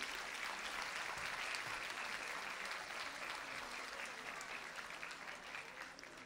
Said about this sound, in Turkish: Alkışlar onlara gelsin.